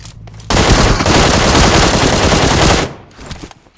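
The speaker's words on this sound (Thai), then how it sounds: "ช็อตอย่างนี้จังหวะอย่างเงี้ยคุณคุณต้องยิงสูงนะ ต้องยิงให้คมนะ" Loud, rapid automatic gunfire in the video game PUBG on the Sanhok map rattles out as one sustained burst of roughly two seconds, then cuts off, leaving faint shuffling.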